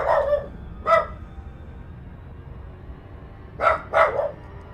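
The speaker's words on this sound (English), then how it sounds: "And that would be the dog." A dog named Chester barks indoors: a single bark near the start, another just before one second, then a quick double bark around four seconds, moderately loud with quiet gaps between.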